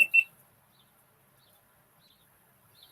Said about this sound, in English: My GoPro just beeped.